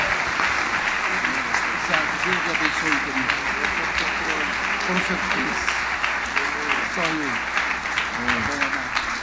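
A congregation at a state church convention in Rio Grande do Sul applauds warmly, keeping up continuous dense clapping while a voice speaks over it throughout.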